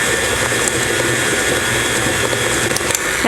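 Electric mixer beating grated carrots into carrot cake batter, a loud continuous whirring motor hum with slight fluctuations throughout, alone and without talk.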